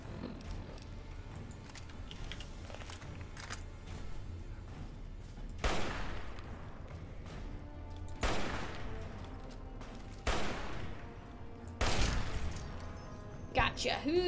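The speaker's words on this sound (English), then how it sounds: "Alright, sniper rifle." Sniper rifle gunfire in Fallout New Vegas: several sharp, loud shots spaced a few seconds apart over a constant game background hum, with a voice talking underneath.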